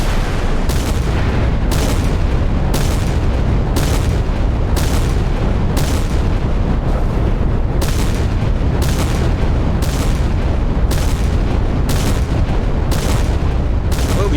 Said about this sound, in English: I don't know why she's still firing